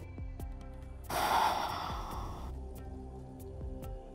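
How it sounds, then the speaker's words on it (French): One slow, deep exhalation during a hatha yoga pose, a soft breathy rush lasting about a second and a half, close and quiet, with calm stillness before and after. "Prends quelques grandes respirations ici"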